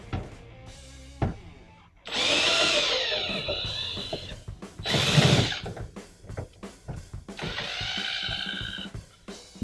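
A drill with a Phillips tip backs screws out of a school bus ceiling in three separate whirring bursts of a few seconds each, with clicks and clattering between them.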